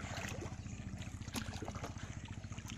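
A boat moving on water, a steady low motor throb with a rapid pulsing beat under splashing and gurgling water, faint and continuous over a few seconds.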